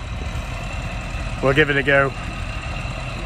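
A tractor engine idles steadily and close by, a low constant mechanical hum with its power take-off running, while someone speaks briefly over it midway.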